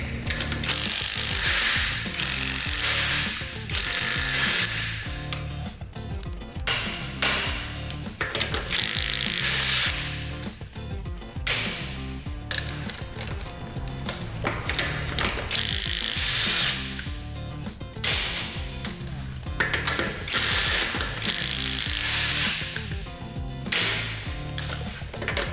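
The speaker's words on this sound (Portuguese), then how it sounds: "Estou usando a parafusadeira elétrica e vamos iniciar a soltura da roda." Electric screwdriver with a 21 mm socket loosening the wheel nuts on a Kia Soul, a dense, loud ratcheting mechanical whir running steadily in repeated bursts throughout, with no talk.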